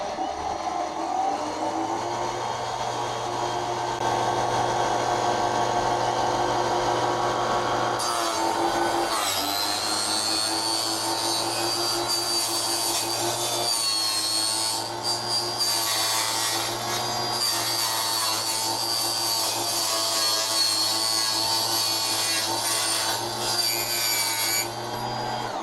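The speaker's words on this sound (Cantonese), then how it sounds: "鋸直徑50mm 嘅圓亞加力管，半徑細，可以完全貼喺個靠山度轉" A mini table saw cuts through a 50mm diameter round acrylic tube, a sustained whining motor hum overlaid with a harsher, grinding cutting tone that rises after several seconds and continues steadily to the end, with no talk.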